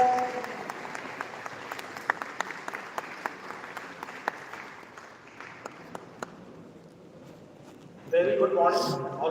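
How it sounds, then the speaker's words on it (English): An audience at a national moot court competition applauds the chief guest, with dense clapping that fades after about six seconds before a voice begins speaking over a brief burst of louder sound at the end. "I request you all to welcome the thunder round of applause on the dais"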